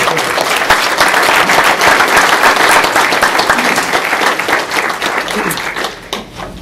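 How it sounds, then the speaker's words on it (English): Crowd at a Fraternal Order of Police lodge sheriff forum gives loud, dense applause for a candidate, sustained then tapering off in the last second. "Would y'all give him a round of applause?"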